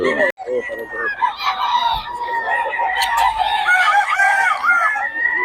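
Roosters crow loudly over a chorus of clucking chickens, with several overlapping calls close by and a sharp knock near the start.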